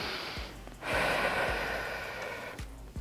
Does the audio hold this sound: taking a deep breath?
yes